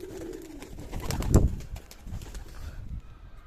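Pigeons bathing give low, throaty coos that rise to one louder burst midway and then settle into softer murmurs, fairly close, with no talk.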